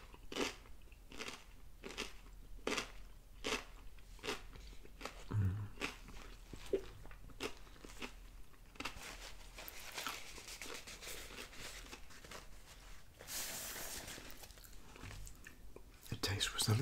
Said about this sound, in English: I have a little bite of it now.